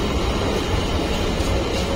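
A train rolls past without stopping, giving a steady, loud low rumble that holds evenly for the whole two seconds with no voices over it.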